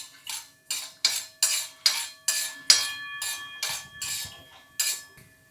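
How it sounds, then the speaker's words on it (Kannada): An iron pan rings with about eleven evenly spaced bright metallic clinks while tomato chutney is being cooked, each strike fading into a shimmering tone, close and clear with no voices. "ಕಬ್ಬಣದಂಚು ಎಷ್ಟು ಚೆನ್ನಾಗೈತೆ ಅಂದರೆ ಒಂಥರ ಅದೇನೋ ಹೀಲಿಂಗ್ ಥೆರಪಿ ಅಂತ ಮಾಡ್ತಾರಲ್ಲ, ಆ ಥರ ಸೌಂಡ್ ಎಂತ ಚೆನ್ನಾಗಿ ಬರ್ತೈತೆ"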